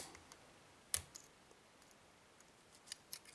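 Sidese tubular lock being picked, heard as a faint quiet background with one sharp metallic click near the start and a few smaller ticks later.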